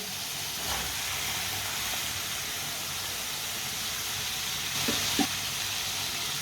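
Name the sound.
finely chopped turnips sizzling in a pan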